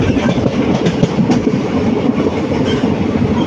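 A Kochi metro train passes close by with a loud, sustained rumble and rhythmic wheel clatter that stays strong throughout.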